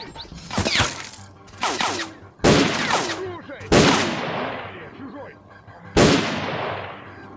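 Gunfire in S.T.A.L.K.E.R.: Clear Sky: five loud, sharp shots or short bursts spaced about a second apart, each with a long reverberant tail, with no voices over them.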